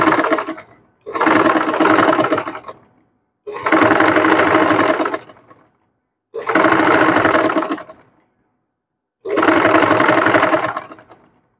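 A sewing machine stitches a sleeve in five separate bursts of rapid, steady whirring, each lasting a second or two with short silent pauses between them, close and clear.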